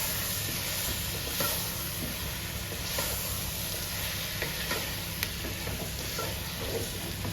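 Chicken with black pepper powder being stirred in a pan, a steady soft sizzle and hiss with faint scraping clicks throughout, moderately quiet and without voices.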